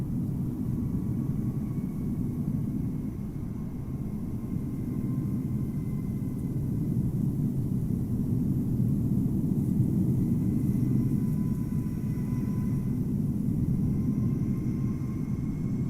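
KLM Boeing 737-900 airliner at Amsterdam Schiphol in Microsoft Flight Simulator, a steady low engine rumble and roar holding for the whole stretch with faint higher whine, continuous and unbroken, no voices.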